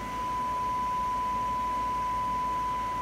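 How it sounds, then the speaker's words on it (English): A steady, unbroken test tone from a phone plays through a Striker 955 CB radio, a single clean pitch holding at constant loudness for the whole stretch over a faint hiss, with no talking. "So this will be a tone off the phone here."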